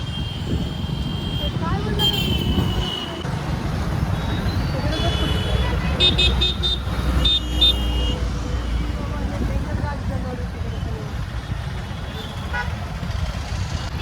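Riding a motorbike through town road traffic near a bus stand, with a steady engine and wind roar, horns tooting, and a few high repeated beeps over continuous traffic noise; a voice talks briefly.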